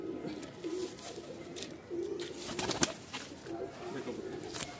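Punjabi pigeons coo in soft repeated low calls, several overlapping phrases close by, with faint background noise and a brief sharp click.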